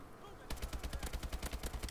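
Rapid automatic gunfire in the futuristic shooter Call of Duty: Advanced Warfare, a close, loud stream of evenly spaced shots beginning abruptly and continuing steadily, with a player's voice faintly under it.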